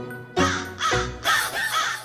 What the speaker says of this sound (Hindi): मुझे कौवा बोल रहा है